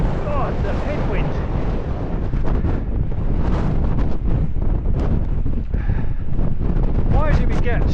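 Strong headwind buffets the microphone on the North Coast of Cornwall near Bude, a loud continuous roaring rumble with gusty surges that persists through the whole stretch.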